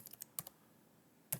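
Quiet keystrokes on a computer keyboard, a quick cluster of taps followed by a pause and one last louder keypress.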